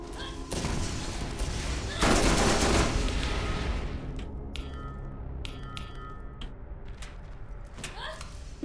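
SMG fire in a shooter game, a long continuous burst of rapid loud shots, then scattered clinking and a few short bursts with lighter tail sounds, with talking partly over it.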